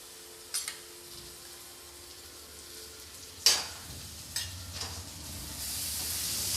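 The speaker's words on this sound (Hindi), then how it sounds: "लहसुन अदरक को भी मैं हल्का सा भून लूँगी।" Coarsely crushed ginger garlic paste fries with translucent onions in a pan, a faint steady sizzle broken by a few sharp spoon scrapes and stirring bursts that grow louder toward the end.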